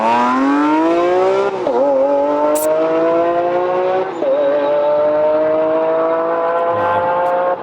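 A yellow Lamborghini Aventador SVJ supercar screams past on a racetrack, its engine rising steadily in pitch through gear shifts, loud and continuous with a brief high squeal partway through.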